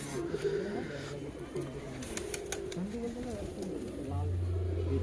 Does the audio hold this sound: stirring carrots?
no